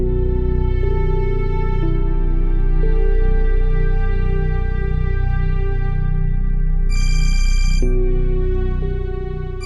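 A telephone ringtone plays loudly and steadily indoors, a sustained electronic melody of shifting tones that changes pitch every second or so and continues without pause.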